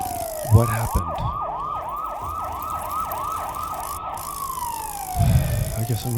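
Police car sirens in a horror video game yelp in fast repeated up-and-down cycles, then settle into a long slow wail before another burst of quick yelps, loud and close with no voices.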